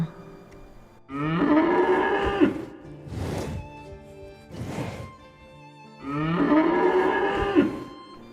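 A water buffalo bellows twice in long, loud, groaning moos, with a pair of brief thuds in between, close and clear with no talk, like a sound effect.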